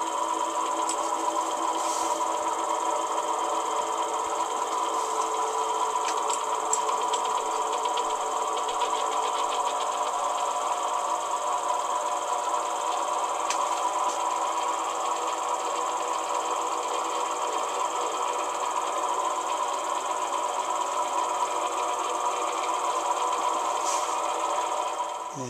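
A machine works slowly on a workpiece while ball bearing wheels are being fabricated, giving a steady mechanical whir and hum with faint scraping. The sound stays even and continuous and is heard alone.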